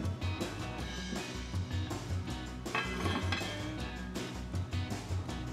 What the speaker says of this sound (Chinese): 这个时候搅拌，搅完之后滚翻起冚盖